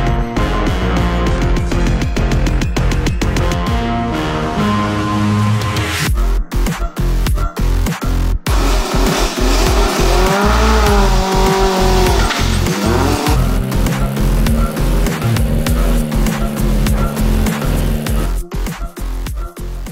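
Niki Schelle's Opel Ascona rally car, fitted with Eibach springs for rally use, drives hard around a closed track at a driving safety centre in Olpe. The engine roars loud and close with repeated rev changes, and no voices can be heard.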